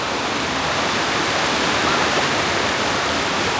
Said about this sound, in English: There come more waves, look.